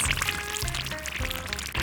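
Sauce made with cooking oil, onion, tomato and bell pepper poured from a tiny pan into a miniature spicy seafood boil, a steady close liquid pour in a few bursts with faint clinking of small cookware.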